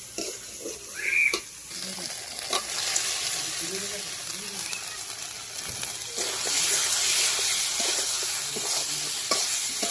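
Goat meat for mutton tehari frying in a pan with garlic, cumin and coriander, a steady sizzle broken by repeated scraping stirs, close and fairly loud throughout.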